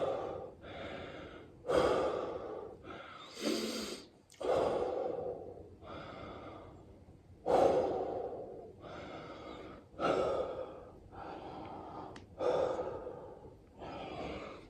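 Heavy panting after one-arm push-ups: about a dozen loud, close, rasping breaths rise and fall in a steady, labored rhythm, with no speech over them.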